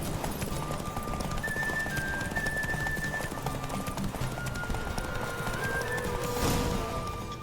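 Horses gallop in a race in the video game The Witcher 3, with continuous hoofbeats under a steady game soundscape and thin tonal calls, at moderate, even loudness throughout.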